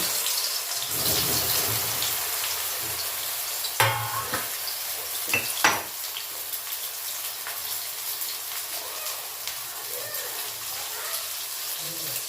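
Soaked soya chunks sizzle steadily in hot oil in a pan, a continuous frying hiss with a few sharp clanks of a spoon stirring partway through.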